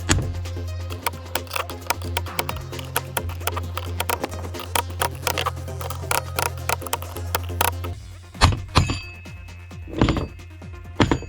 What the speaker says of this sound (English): Grab a hammer punch, just tap on the top of the rivets